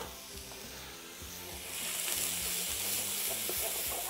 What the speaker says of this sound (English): Hear that sizzle? We know it's hot enough.